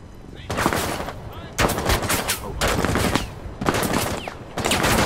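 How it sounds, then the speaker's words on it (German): Rapid automatic gunfire from the tactical shooter Rainbow Six Siege, loud and close, arriving in four dense bursts separated by brief pauses. "können die ja ruhig ihre Munition verballern"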